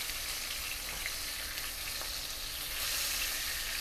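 Chicken scallopini cutlets sizzle loudly in a hot pan, a dense, steady crackle of frying that swells slightly near the end as they are flipped.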